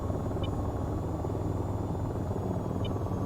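Helicopter in the VTOL VR video game, a steady low rotor rumble and engine drone holding constant and loud throughout, with two brief faint electronic beeps.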